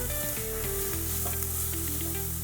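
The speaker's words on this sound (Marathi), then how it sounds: "तूप गरम झालं आता आपण हे गाजर किसून घेतले होते ते टाकून घ्यायचे दोन मिनटं चांगलं असं परतून घ्यायचे" Grated carrot sautéing in hot ghee, a dense, steady sizzle that stays loud throughout with a faint tonal hum underneath, no voices.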